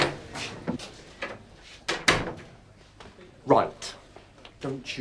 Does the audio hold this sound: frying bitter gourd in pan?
no